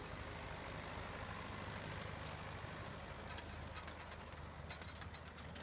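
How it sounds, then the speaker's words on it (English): Corn grinder running on a dairy farm in winter, a faint steady mechanical drone with a low engine-like hum and scattered light rattles, heard alone. "We have to drive over to the other farm to grind corn about every 6 days with this grinder."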